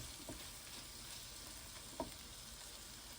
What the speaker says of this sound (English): Nice little saute